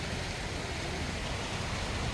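Steady rain falls during solar panel cleaning on a rooftop, a continuous even hiss of drops with no gaps, fairly loud and close.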